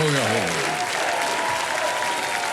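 Studio audience applause on a television quiz show, a steady roaring wash of clapping that fills the room, with a host's voice briefly heard at the start before the clapping carries on alone.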